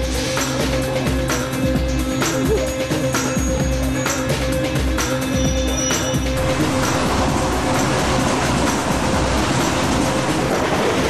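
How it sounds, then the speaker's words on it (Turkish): A train rumbles along the tracks with rhythmic clacking and metallic rattle, loud and continuous, and a brief voice is barely audible. "Cahit, treni durdurmamız lazım."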